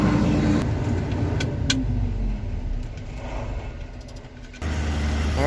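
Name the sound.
grain truck driving away during wheat harvest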